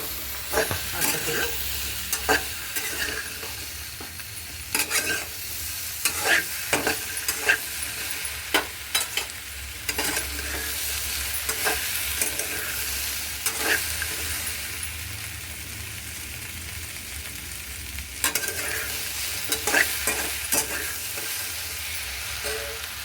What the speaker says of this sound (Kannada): ನಾನು 1-2 ಸ್ಪೂನ್ ಎಣ್ಣೆ ಹಾಕ್ಕೊಂಡು ಬೆಂಡೆಕಾಯಿನ ಚೆನ್ನಾಗಿ ಹುರಿಬೇಕು, ಫ್ರೈ ಮಾಡ್ಕೋಬೇಕು